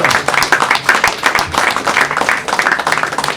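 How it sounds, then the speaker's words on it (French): Audience applauding lifeboat rescuers at a marina ceremony, a steady burst of hand clapping from a sizeable crowd, close and fairly loud, filling the short moment without pause. "Je crois qu'il faut applaudir tous ces sauveteurs."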